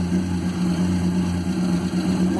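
Volkswagen Beetle fitted with a 2.4-litre 16-valve Subaru engine idling, a close, steady low hum with a faint, even pulse.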